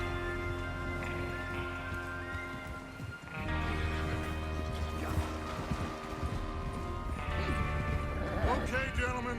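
Horses moving in a Western outlaw setting in Red Dead Redemption 2, with clip-clop hooves and an occasional whinny under a sustained musical score and game ambience, with voices heard at times.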